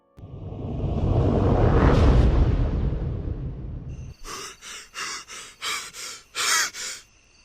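A dramatic gasp sound effect from a narrated horror story: a loud, rushing intake of breath swells and fades, followed by a rhythmic series of short, sharp panting breaths.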